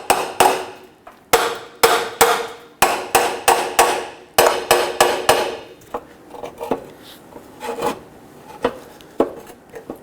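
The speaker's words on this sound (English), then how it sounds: "Let's go ahead and give this a few taps." A hammer strikes the exhaust pipe under a 2011-2021 Jeep Grand Cherokee 3.6L V6 in a quick series of sharp, ringing metallic taps. Softer, sparser knocks and scraping follow.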